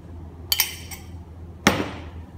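Chili, onion and curry leaves are pounded in a mortar for a Sri Lankan coconut sambol, giving two close, sharp knocking strikes about a second apart, the first doubled, the second ringing a little longer.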